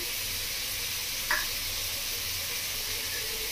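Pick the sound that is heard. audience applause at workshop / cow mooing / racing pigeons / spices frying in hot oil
spices frying in hot oil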